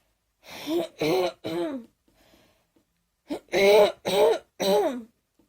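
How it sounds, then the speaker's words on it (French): A person with a throat problem coughs and clears their throat in two clusters of three harsh, voiced bursts, separated by a short quiet gap. "je tousse parce que j'ai un problème à la gorge"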